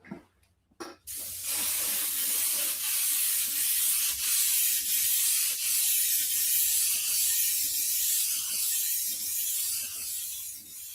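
An airbrush sprays paint while a black hole scene is painted, giving a continuous loud, even hiss that runs for about ten seconds after a brief pause and a few faint clicks.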